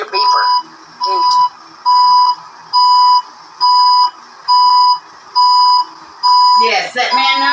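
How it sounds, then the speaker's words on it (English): An electronic beeper sounds a steady series of about nine evenly spaced, sharp, loud beeps, with voices chattering briefly near the start and end. "I'm gonna unhook your beeper"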